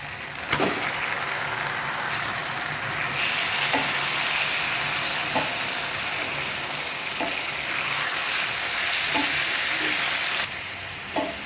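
Raw prawns seasoned with salt, chili and turmeric sizzle loudly in a pan for spicy gongura prawn curry, a steady close frying hiss with faint periodic clicks, no one speaking.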